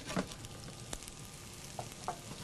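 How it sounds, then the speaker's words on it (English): Sliced onion cooking in a tablespoon of olive oil in a pan, a faint, quiet sizzle with a few soft taps and scrapes of a utensil. "we're going to start with some sliced onion and a little bit of olive oil in the pan"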